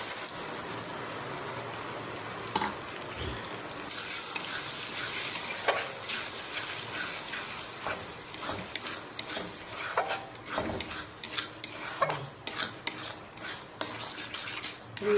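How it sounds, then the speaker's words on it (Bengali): Eggs fry in a pan with spices, a steady sizzle under repeated scraping and clinking of a spatula as they are stirred, close and continuous throughout. "আবার ডিম দিয়ে পুরা ভাজা ভাজা করবো।"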